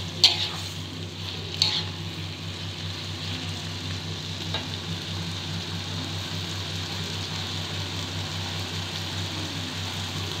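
Oyster mushrooms fry in a pan with a steady soft sizzle, with a couple of sharp scrapes of stirring near the start, no voices.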